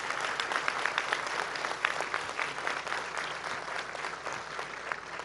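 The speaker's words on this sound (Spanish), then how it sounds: "un aplauso a todas las mujeres de México." A crowd at an outdoor public health rally in Apetatitlán, Tlaxcala, Mexico, breaks into steady sustained applause, a dense wash of clapping lasting several seconds with no talk over it.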